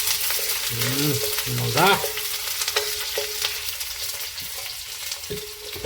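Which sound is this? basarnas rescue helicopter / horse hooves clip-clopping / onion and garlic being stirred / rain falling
onion and garlic being stirred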